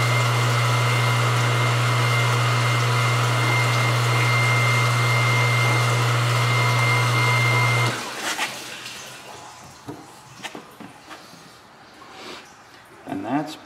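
A pump drawing biodiesel during drying, a loud steady hum with a strong low tone that runs unchanged for about eight seconds and then cuts off, leaving scattered quiet handling noises.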